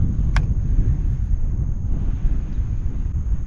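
Strong storm wind buffets a fishing boat on open water, a steady low roaring rush with heavy gusts across the whole span and a brief faint click near the start.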